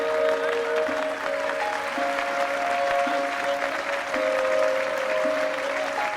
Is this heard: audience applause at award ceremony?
yes